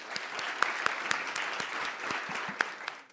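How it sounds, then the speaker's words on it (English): Audience applause at a neighborhood awards ceremony, fairly quiet and distant, with a few sharper individual claps standing out from the steady patter. "Let's give them a round of applause."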